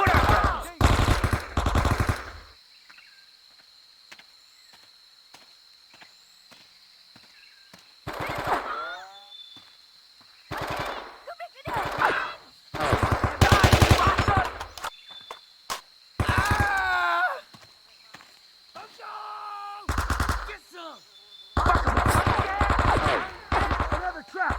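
Machine gun fire in a Vietnam War shooter: loud, close bursts of rapid shots broken by quiet gaps, with brief shouting voices between them.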